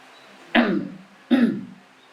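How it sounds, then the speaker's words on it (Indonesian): Two deliberate throat clearings, each a sharp, close "ehem" with a quickly fading tail, spaced about three quarters of a second apart over a quiet background. "Dehem dengan sengaja sebagai isyarat bahwa panjenengan sholat batal."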